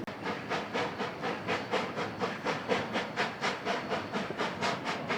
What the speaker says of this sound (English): There is a whole heck of a lot of steam coming up right now